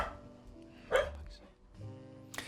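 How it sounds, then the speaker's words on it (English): Dogs bark a few times in short yips and woofs, fairly close, over a low background hum with a little faint talk nearby. "I don't know what they're barking at"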